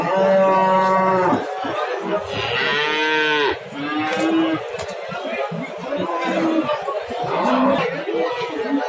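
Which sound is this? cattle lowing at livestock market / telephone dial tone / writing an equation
cattle lowing at livestock market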